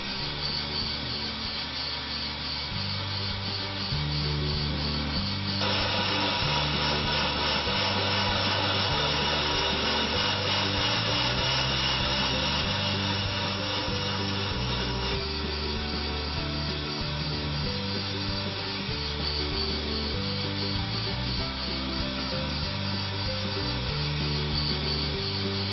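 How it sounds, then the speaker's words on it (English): A brake lathe machine cuts an automotive brake rotor with a steady, loud whirring grind and metallic hum that continues unbroken, its tone shifting slightly partway through, with no voices. "Now we set the machine to cut the rotor."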